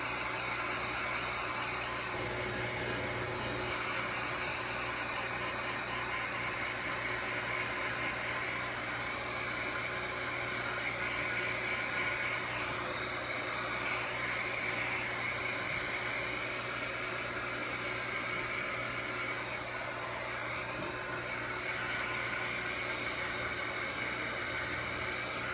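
Steady broadband blowing hiss of a heat gun warming black epoxy on a tumbler before gold is added, continuous and fairly close throughout with a constant hum underneath and no talking.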